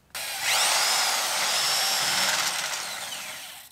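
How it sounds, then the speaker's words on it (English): A cutoff wheel slicing through the metal of an old engine hoist, a loud, close, continuous high-pitched grinding whine that holds for a few seconds without talk. "We'll just take our cutoff wheel,"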